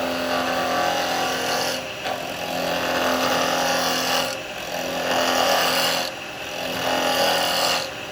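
A woodturning tool slicing seasoned wood on a lathe for a miniature cowboy hat, a continuous close whirring scrape that swells and eases in repeated passes with brief dips between cuts.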